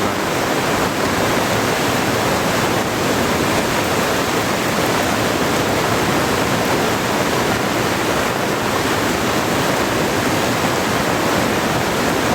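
Floodwater surges along a rain-swollen river in the Konkan region, producing an unbroken, powerful roar that stays loud and steady throughout.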